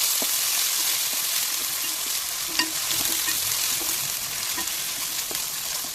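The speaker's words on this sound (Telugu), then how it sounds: "పచ్చివాసన పోయేంత వరకు వేయించుకోవాలండి ఇక్కడ మనం అల్లం వెల్లుల్లి పేస్ట్ అనేది" Ginger garlic paste frying with onions and green chillies in a pan for a simple chicken fry, a steady broadband sizzle with occasional stirring clicks and scrapes, close and continuous throughout with no talking.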